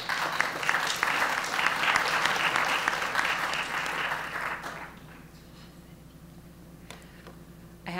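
Loud, dense applause from an audience welcoming a speaker to a climate change adaptation lecture, steady for about five seconds before fading into quiet room tone.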